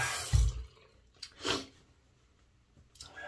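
Tap water briefly splashes as a razor and face are rinsed between shaving passes, a few short watery bursts and drips with quiet gaps between them.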